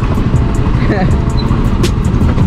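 A motor tricycle rumbles steadily from inside the sidecar, its engine drone and road noise loud and close throughout, with voices chatting over it.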